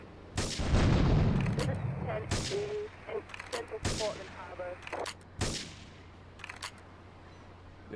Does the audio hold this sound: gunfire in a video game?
yes